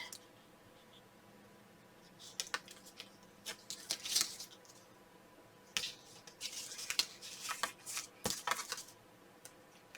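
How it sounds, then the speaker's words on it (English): Scissors snip through paper while a small gift card pocket for a Christmas tag is trimmed: a few sharp, crisp cuts in clusters, close and fairly quiet, with soft paper handling between them and no talk. "Use my scissors to snip it."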